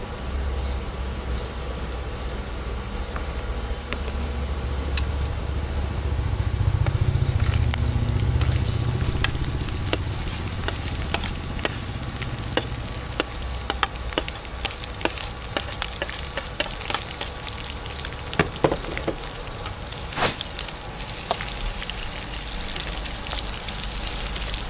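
Onion dropped into hot oil where garlic has already browned, giving a steady close sizzle that swells for a few seconds and then crackles and spits in scattered pops, with no talking.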